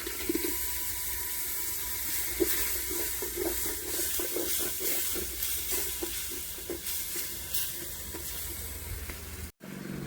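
Ground ginger-garlic paste with cinnamon, cloves and fennel sizzles in a hot pan for a home-style chicken curry, a steady close crackle with repeated soft stirring scrapes and no voices.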